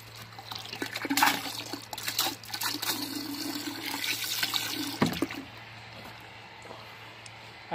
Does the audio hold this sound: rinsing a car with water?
yes